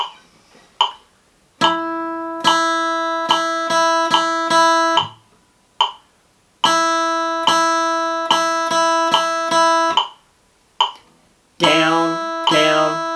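A guitar picks a steady measure of quarter and eighth notes from a beginner's method exercise, clean, close and alone, with crisp repeated attacks and short gaps between the phrases.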